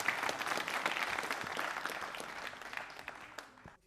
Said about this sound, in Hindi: तालियां बजाइए इन दोनों के लिए आप।